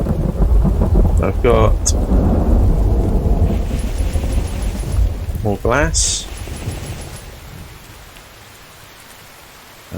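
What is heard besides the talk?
thunderstorm with rain atop a tower in a video game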